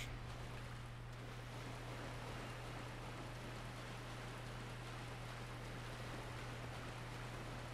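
Loud rushing water in the video game Dark Souls, a steady, unbroken broadband roar with a low hum beneath it and no talking.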